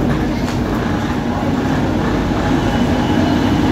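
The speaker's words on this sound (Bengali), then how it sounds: "আমাদের ট্রেন ঢুকছে বালেশ্বর স্টেশনে 12074 ভুবনেশ্বর হাওড়া জনশতাব্দী।" The Bhubaneswar–Howrah Jan Shatabdi Express 12074 rolls into Balasore station's platform 3 with a loud, steady rumble of wheels and carriages that holds evenly throughout, with no voices over it.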